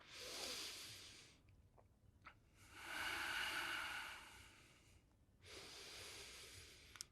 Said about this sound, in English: And we'll take just 2 more big breaths.